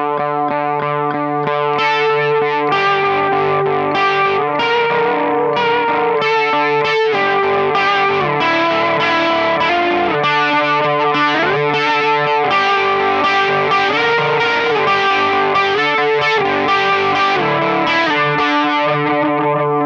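An electric guitar in drop D tuning holds a droning open D under a run of distorted, chorus-tinged riffs and note changes, loud and continuous throughout, with no voices.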